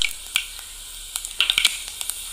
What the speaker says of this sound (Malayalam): ഒരു വലിയ സ്പൂണ് ടേബിൾ സ്പൂണ് കടുകിട്ട് കൊടുത്തിട്ടുണ്ട്.